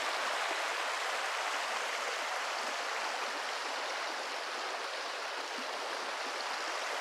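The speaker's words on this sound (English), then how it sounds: "Gotta do a creek crossing." A creek rushes steadily at a trail crossing on the Continental Divide Trail, a close, even wash of flowing water without pauses or voices.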